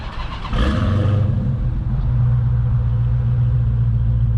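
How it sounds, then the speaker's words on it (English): Start-up of a 2022 Dodge Charger Widebody Hellcat: the starter catches and the engine flares into a loud, close roar, then settles into a deep, heavy rumbling idle. "let's just get a little cold start for you guys"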